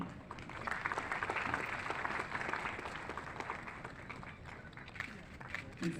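At an event for India's 14th National Voters' Day, the audience claps as a person walks onto the stage, a steady patter of many hands with distinct sharp claps, fading slightly toward the end, with an announcer's voice mixed in.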